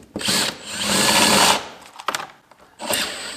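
A power drill whirs in three bursts while building a slot car track: a long steady run, then two shorter spins separated by brief pauses, loud and close.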